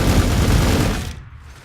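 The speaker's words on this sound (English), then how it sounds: "So I guess we're going to just go over here and start shooting this guy." Gunfire rattles in a Warhammer 40K Gladius battle, a dense, loud volley of rapid shots with deep booms that fades out abruptly after about a second, heard alone without speech.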